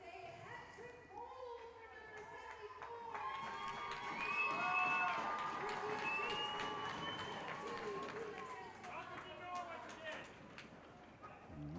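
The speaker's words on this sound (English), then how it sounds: "A nice round of applause from the capacity crowd on hand here." A capacity crowd at a high school ice hockey game applauds and cheers after a shorthanded goal completes a hat trick, a broad swelling roar that peaks midway and slowly eases while a commentator talks over it.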